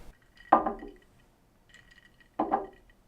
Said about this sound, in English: And now I need the glass setting down.